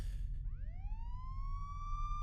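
A police car siren wails close by: a brief descending whoop, then a rising tone that swells and holds steady over a low rumble.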